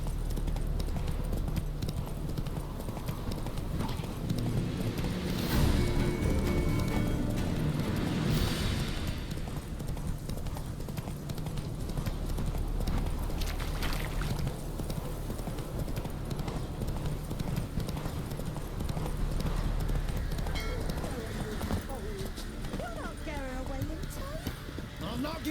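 Roach the horse gallops in The Witcher 3 with rapid, rhythmic clip-clop hoofbeats throughout, close and prominent, with game voices talking over parts of the run.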